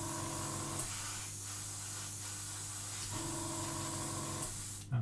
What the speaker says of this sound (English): It sprays almost identical to the Iwata HPCS.